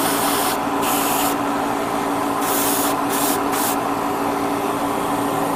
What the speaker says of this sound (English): After spraying, just give it a light, air blast, and then spray a little bit if you can.